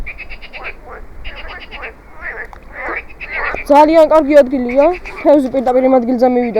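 Frogs croak beside a stream at a fishing spot, a loud wavering chorus rising midway and continuing, heard together with someone talking close by.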